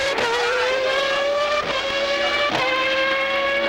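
A Formula 1 car from 1997 qualifying at the European Grand Prix, its high-pitched engine screaming continuously close by, dropping pitch in steps through several quick downshifts from sixth to second gear into the Dry Sack right-hander.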